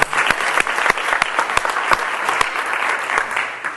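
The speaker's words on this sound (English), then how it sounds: "I think we should give the gatekeepers a round of applause for that effort." An audience at a talk on community health assessments bursts into sustained applause, a loud, thick patter of many hands with sharper individual claps popping out above the rest.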